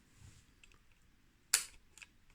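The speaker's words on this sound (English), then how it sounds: "that's the shutter fired" A single sharp mechanical click of a camera shutter, close and crisp, followed by a smaller click a moment later in a quiet room.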